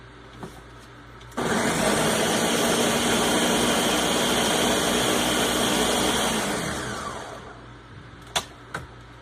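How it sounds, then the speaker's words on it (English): A blender blending salsa switches on abruptly and whirs loudly at a steady pitch for several seconds, then winds down to a stop, followed by a few light clunks. "Add it on the blender."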